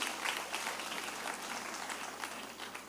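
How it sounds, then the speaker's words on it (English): An audience at a ceremony where a Central Regional Minister congratulates young people bursts into steady, dense applause, sustained and fairly even for a few seconds at moderate distance. "I need you to clap for yourself."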